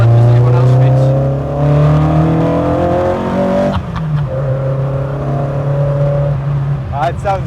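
A 1957 Ford Anglia fitted with a Cosworth engine idles with a steady, loud, deep rumble, and a person talks over it throughout.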